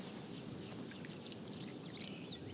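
Water poured onto a waterproofed bed sheet, a steady splashing pour with bright droplet spatter, continuous and close.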